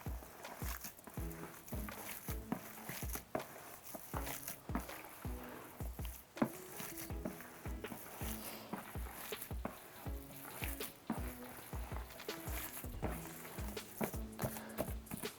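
Paper mache pulp being mixed by hand for a handicraft project, giving repeated wet squelching and slapping pulses in a steady, close rhythm with no talking.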